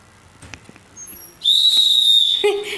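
A person whistles loudly and close by in a single sustained high tone, after a second of quiet rustling, with a lower tone coming in near the end and no talk.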